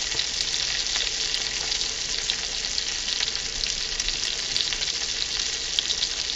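Keto burger patties fry in a pan with a steady, close, crackling sizzle that stays dense and even throughout, with no voices.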